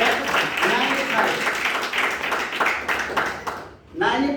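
An audience claps steadily throughout a product presentation, a dense, continuous patter of many hands that dips briefly near the end, with a voice speaking over it at the start and finish.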